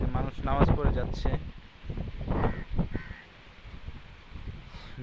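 A crow caws repeatedly outdoors near a possible nest, the harsh calls mixed with people talking and gusty wind noise on the microphone during stormy weather.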